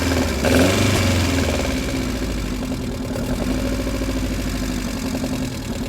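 A Vauxhall Corsa B's C20XE engine idles roughly up close, a loud steady thrum with an uneven, lumpy pulse, briefly revving higher at the start before settling, with no talking.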